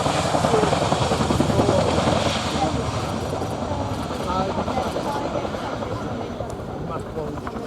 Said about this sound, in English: the crew will now perform the running landing, a manoeuvre that allows the Chinook to land like a conventional aeroplane